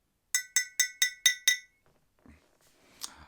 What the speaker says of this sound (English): We have a glass bottle.